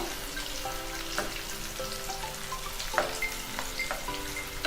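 Onion rings fry in sunflower oil with a continuous close sizzle and crackle, steady in level with occasional brief pops.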